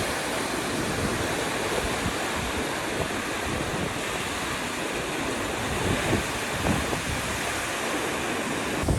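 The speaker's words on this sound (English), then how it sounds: "This part's a wind tunnel, and it literally pushes me every time, like really intensely." Strong wind roars across a ship's deck in the Drake Passage, a loud, continuous broadband rush with gusty surges and buffeting against the microphone, with no voices.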